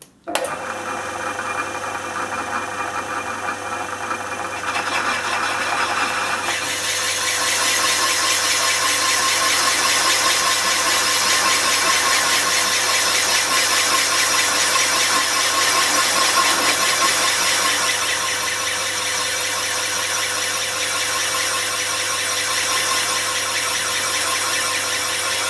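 A Triumph Tiger Cub motorcycle engine idles steadily in a workshop, a constant mechanical whirring hum with a light ticking clatter, close and unbroken throughout.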